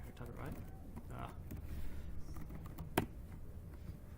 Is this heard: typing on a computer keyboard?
yes